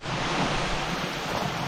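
A small, recently reworked waterfall outdoors gives a steady, dense rush of falling water, close and unbroken, with no voices over it.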